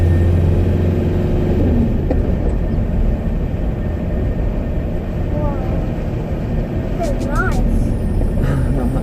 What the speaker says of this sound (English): we are driving round the shale. This is what it feels like to be a banger racer